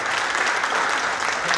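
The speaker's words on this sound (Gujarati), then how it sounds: "વાદામ ભાઈ જોરદાર તાળીઓ દેવા." An audience at a live dayro folk performance held by a business group in Surat breaks into loud, dense, continuous applause that fills the whole stretch.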